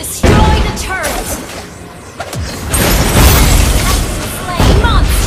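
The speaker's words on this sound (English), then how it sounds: "Your team destroyed a turret!" A turret is destroyed in Mobile Legends: Bang Bang with loud booming bursts layered over dense battle effects, and announcer-style voice lines come through the mix.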